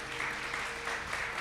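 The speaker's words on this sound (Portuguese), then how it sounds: "Quem pode aplaudir ao Senhor por isso?" A church congregation claps in praise during a sermon, a brief, fairly soft burst of mixed clapping heard from a distance.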